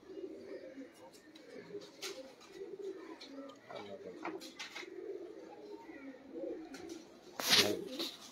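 Pigeons coo at a pigeon-flying loft in Jalalpur Bhattian, Pakistan, in low, soft, repeated calls over a steady outdoor hum, with a sharp brief clatter near the end.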